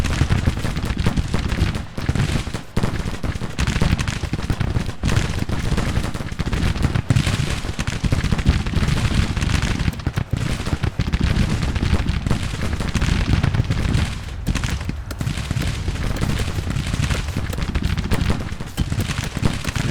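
Massed musket and rifle volleys in the Civil War strategy game Grand Tactician, a steady roar of overlapping gunfire crackling without pause, dense and loud throughout.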